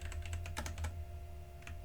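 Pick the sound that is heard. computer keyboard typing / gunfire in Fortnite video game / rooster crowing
computer keyboard typing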